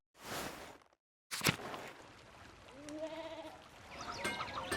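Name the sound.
sheep bleating in video game Pentiment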